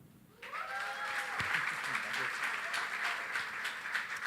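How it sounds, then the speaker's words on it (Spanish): A church congregation at an anniversary service breaks into applause for Marlon, a sudden burst of many hands clapping that holds steady and full, with a voice briefly audible at the start. "Les presento, por favor, un aplauso a Marlon"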